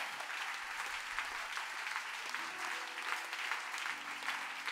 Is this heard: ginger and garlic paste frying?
no